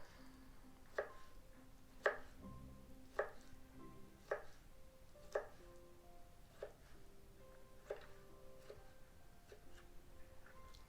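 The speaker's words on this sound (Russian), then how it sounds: "Поворачиваем и опять уже на квадратики, на кубики вернее." Kitchen knife dicing cooked vegetables into small cubes on a cutting board for a vinegret beet salad; a steady series of crisp, fairly faint chopping strikes with no talk.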